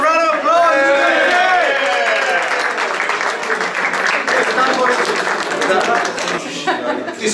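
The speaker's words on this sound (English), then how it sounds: "Our round of applause!" Applause and cheering from an audience at the British Kebab Awards ceremony in Parliament, London, greeting the Tooting branch of Istanbul Kebab House as winner, sustained and loud, mixed with crowd chatter and a few voices throughout.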